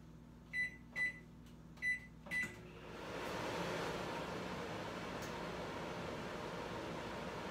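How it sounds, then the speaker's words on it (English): Four short electronic beeps from a microwave, then a door thud and the steady hum of the oven running alone. "putting it in the microwave for 30 seconds to melt it into a liquid"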